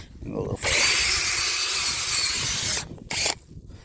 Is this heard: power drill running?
yes